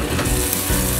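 Chicken sizzles in a pan with garlic, butter and olive oil, giving a loud, dense crackle and hiss throughout the short stretch.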